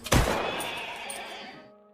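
A horse whinnies in a Pablo Escobar film scene, opening with a sharp loud burst and a strained cry that trails off and fades over about two seconds.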